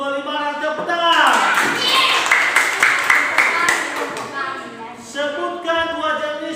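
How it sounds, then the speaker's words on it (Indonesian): Children in a classroom clap their hands together in a burst of mixed claps lasting several seconds, close and fairly loud, with a voice and a teacher's speech before and after. "tepuk tangan"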